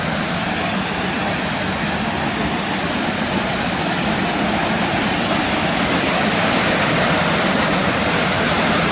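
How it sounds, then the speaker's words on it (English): Whitewater at Cotter Force roars steadily as it rages down through rocks in a gully over a series of big drops. The dense, continuous rush stays loud and close from start to finish, with no voices. "So the water's raging down there through these bits of rocks."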